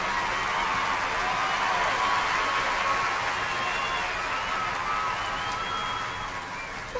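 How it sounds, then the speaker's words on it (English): Dense, steady applause from an audience cheering a karate team after a martial arts demonstration, a continuous crowd clatter with faint shouts mixed in that holds strongly for the whole stretch and eases slightly at the end. "Let's give our team another round of applause, everybody."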